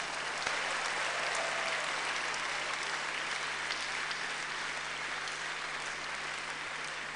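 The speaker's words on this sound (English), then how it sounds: "then give the Lord a good clap offering." Congregation at a Wednesday fellowship church service claps as an offering of praise, a steady, even wash of applause heard at moderate distance with a faint low hum beneath.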